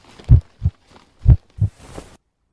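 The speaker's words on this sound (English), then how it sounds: "Oh, it was a heart beating." A heart beats in an animated story, giving two clear lub-dub pairs of deep, close thumps at an even pace, followed by a faint soft rustle, with no voices.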